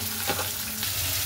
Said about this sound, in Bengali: উচ্ছেটাকে একটু হালকা করে ভেজে নিয়ে